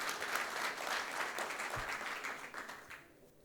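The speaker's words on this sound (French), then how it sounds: "Je pense qu'on peut applaudir les participants" A room full of industry conference attendees applauding, a steady wash of clapping that fades away toward the end.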